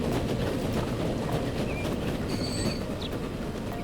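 Transport Fever 2 game trains pulling out of a depot, a continuous rolling rumble with faint clickety-clack and a few brief high wheel squeals, no voices.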